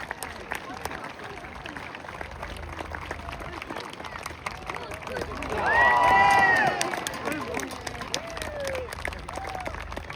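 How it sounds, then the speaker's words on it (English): An outdoor arena crowd at an Armed Forces event applauds and cheers for a parachute display team jumper, scattered clapping swelling to a louder burst midway, with a PA announcer talking over it. "Big round of applause, please, for Matt, the Jump Box Parachute Display Team."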